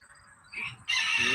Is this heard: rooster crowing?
yes